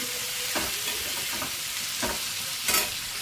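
Tomatoes fry in a pan for bisi bele bath, a steady close sizzle broken by a few soft scraping stirs.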